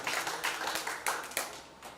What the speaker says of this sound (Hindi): एक बार जोरदार तालियां हो जाइए भाई के लिए